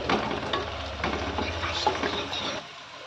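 Ginger garlic paste sizzling and frying in a pan as it is stirred, a steady close crackle with occasional scrapes of a utensil, cutting off near the end.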